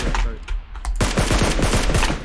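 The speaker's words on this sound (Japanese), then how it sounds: "いきなり銃声したから" Rapid gunfire in the battle royale game PUBG Lite, a burst of loud, close shots crackling in quick succession, with an automatic rifle rattling steadily through the second half.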